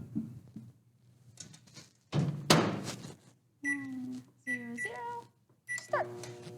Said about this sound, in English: she's gonna put it back in the microwave for another minute